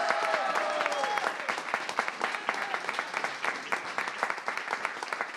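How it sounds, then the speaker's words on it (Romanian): An audience at a stage show applauds after a dance performance, a steady crowd clapping that begins fuller under a brief voice and continues as a sparser, rhythmic patter of hands. "Aplauze!"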